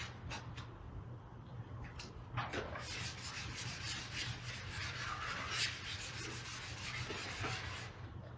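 Sandpaper scuffs a carbon fiber wing for a 2021 BMW F87 M2 ahead of painting, producing quiet, continuous back-and-forth rubbing strokes at close range with no talking.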